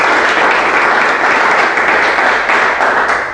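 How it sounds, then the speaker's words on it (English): Audience applause after a startup pitch at a community entrepreneur meetup, loud, dense and sustained clapping from a crowd, with no speech over it. "let's give Jay a round of applause"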